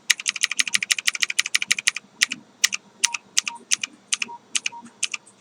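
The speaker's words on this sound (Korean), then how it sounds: "키보드 G를 눌러볼게요" Rapid keyboard typing, a quick burst of clicky keystrokes followed by slower, spaced key presses, close and clear with no voices.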